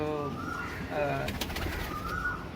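Pigeons coo close by in soft, repeated throaty calls, with a faint voice and light background noise underneath.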